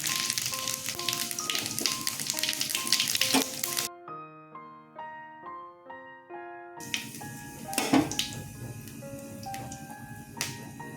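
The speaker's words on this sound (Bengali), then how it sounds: "তেল গরম হয়ে গেছে শুকনো লঙ্কা তেজপাতা ফোড়ন দিয়ে দিলাম আর জিরে মৌরি ফোড়নে দিলাম" Dried red chillies, bay leaf, cumin and fennel seeds crackle in hot oil for a Bengali potato and papaya curry, a busy sizzle with sharp pops, fading away midway under instrumental music before returning.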